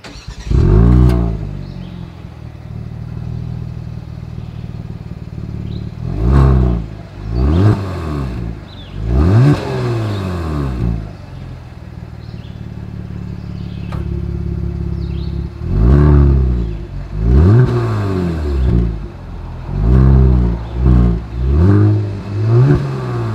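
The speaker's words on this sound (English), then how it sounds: "As always, here is that exhaust clip." A 2022 Genesis G70 sports sedan engine revs repeatedly, climbing and falling in sharp bursts with idle gaps between, loud and close, exhaust burbling throughout.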